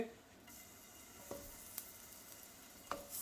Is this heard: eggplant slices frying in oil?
yes